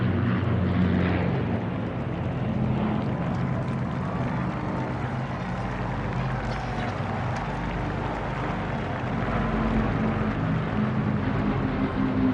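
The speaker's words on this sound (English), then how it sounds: "Unmistakably, a Lancaster, a Hurricane on the left and a Spitfire." Lancaster bomber with Hurricane and Spitfire fighters of the Battle of Britain Memorial Flight flying past at Trooping the Colour, a steady loud propeller-engine drone filling the whole stretch with crowd ambience beneath.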